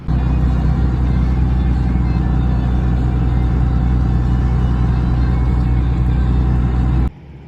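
Second-generation Cummins diesel truck on its first drive, a loud steady low rumble of engine and road noise that cuts off suddenly near the end.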